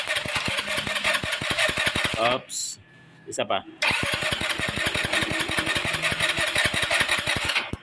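Easyride 150 motorcycle cranking on its push-button electric starter, two close bursts of rapid rhythmic chugging separated by a short pause, with a brief spoken word in between.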